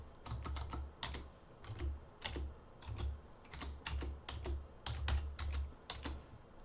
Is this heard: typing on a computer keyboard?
yes